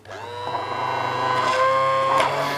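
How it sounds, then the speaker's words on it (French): A blender whirs as it mixes a raspberry and passion fruit glaze, a close, fairly quiet motor whine that rises in pitch as it spins up and holds steady, with no talking. "Et je me permets donc de mixer."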